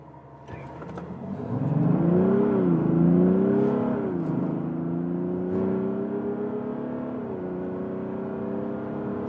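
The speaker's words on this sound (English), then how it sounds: "And acceleration test" A Mazda CX-60 with six-cylinder engine and rear-wheel drive accelerating hard slightly downhill, the engine note rising loudly through gears with a shift dip, then settling into a steadier whir, with no talk.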